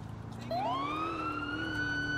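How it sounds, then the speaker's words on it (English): Police car siren from the video game GTA IV with the LCPDFR mod: a rising wail that starts suddenly and then holds a steady, loud tone over a low engine hum. "But I've got another siren installed."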